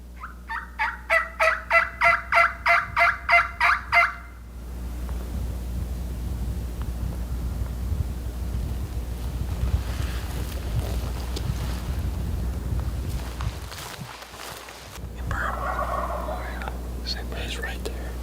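Wild turkey gobbling in a rapid burst of about a dozen pulses outdoors during a spring hunt, followed by steady wind noise, then a faint, more distant gobble near the end.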